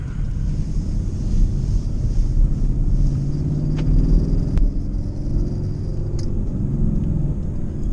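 A 2016 Ford Mustang GT with a loud aftermarket exhaust set to loud mode, heard from inside the car as a steady, heavy low rumble that rises and falls slightly throughout.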